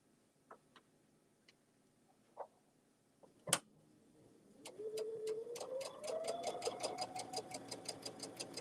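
A sewing machine stitching a bag along a quarter-inch seam guide, preceded by a few isolated clicks and a sharp knock, then starting up into a steady, rapid mechanical whir with fast rhythmic ticking that keeps running at a moderate level.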